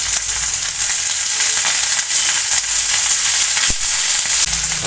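Pieces of brinjal frying in hot oil with onions give a steady, loud, close sizzle that crackles continuously throughout, with no voices.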